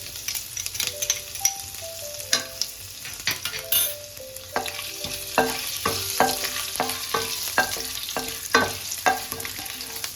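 Whole garam masala spices frying in a pan, a soft sizzle under repeated light spoon taps and clinks against the metal, some with a faint ringing tone.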